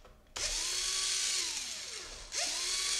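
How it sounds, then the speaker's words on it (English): A powered screwdriver whines in two bursts while backing screws out of a Dell Inspiron 15 3000 laptop. The motor pitch glides down as each run slows, with a short pause between them. "Now here we got three screws which we wanna unscrew"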